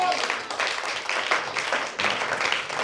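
A church congregation at a sermon by Pastor Eurick Koubatila claps and cheers for the Lord Jesus, a steady wash of applause rising and falling in waves over a few seconds.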